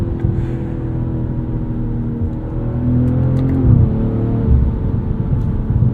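BMW M340i xDrive, a 2023 model on winter tires, pulling hard from a launch: a steady, loud engine drone with rising harmonics that shifts pitch mid-run, heard from inside the cabin with no talking.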